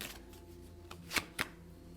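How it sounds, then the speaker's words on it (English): Tarot cards are shuffled by hand: a soft riffle at the start, then two sharp, close card snaps in quick succession. "sometimes when I'm shuffling up the cards, all types of cards start falling out."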